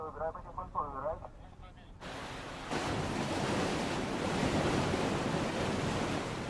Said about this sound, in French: D'énormes pompes entrent en action et l'eau déferle dans l'immense bassin.